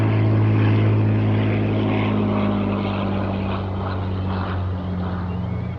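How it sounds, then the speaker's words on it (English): A Hawker Hurricane fighter, flown in from Duxford for a Russian Air Force 100th anniversary event, passes with its propeller engine producing a loud, steady, droning roar that fades slightly toward the end. "This Hurricane has made the long flight here from Duxford in the UK."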